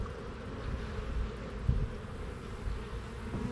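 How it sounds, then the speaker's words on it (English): Honeybees at an open hive give off a low, steady buzzing drone that hums continuously, faint but close, with occasional brief louder passes. "These bees look good."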